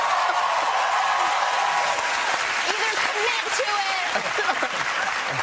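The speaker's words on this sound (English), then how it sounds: "That was a golf clap." A television chat show studio audience gives a brief round of applause, a broad wash of clapping under talk, with a voice speaking over it throughout.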